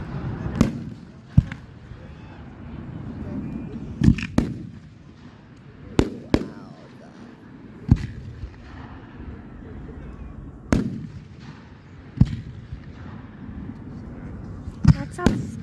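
Fireworks burst one after another in sharp, separated bangs at irregular intervals, some distant and some closer, with people chatting quietly between the explosions.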